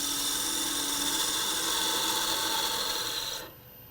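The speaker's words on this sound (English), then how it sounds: "now I'll switch to a spindle detail style gouge" A spindle detail gouge cuts a spinning wood workpiece on a lathe, a continuous close rasping hiss that cuts off abruptly near the end.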